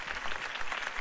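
A brief burst of crowd applause and cheering in the Telltale Batman video game, steady and fairly loud, with a slightly processed, game-like quality.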